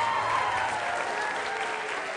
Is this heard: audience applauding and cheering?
yes